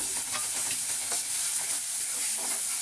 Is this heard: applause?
no